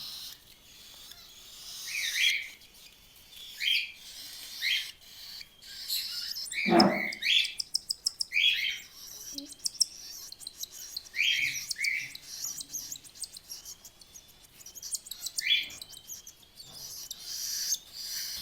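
Young cockatiel chicks being hand-fed with a dropper give short high chirps and begging calls, repeated at irregular intervals, close by, with one louder squawk partway through.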